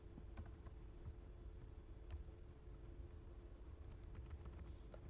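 W, A, S and D keys on a computer keyboard are pressed in quick irregular taps, quiet and close over a low steady hum.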